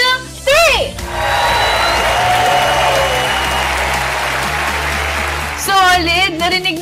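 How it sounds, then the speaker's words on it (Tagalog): Concert fan-meet crowd of fans screams and cheers on cue after a countdown, a loud sustained roar of many voices lasting several seconds, with a shouting emcee's voice heard just before it and again as it fades. "After 3, sigaw kayo kung solid bloom kayo!"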